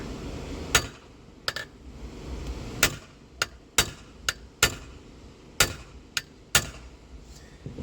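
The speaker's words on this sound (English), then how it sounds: "we're gonna take a hammer, we're just gonna give it a tap." A series of sharp metallic hammer taps on a Briggs and Stratton 3HP rototiller part, about ten irregularly spaced strikes ringing bright against a low background hum.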